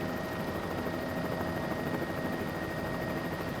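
Bell 206L3 JetRanger helicopter in Microsoft Flight Simulator 2024, a steady, dense rotor and turbine drone with a constant high whine, unbroken and close throughout.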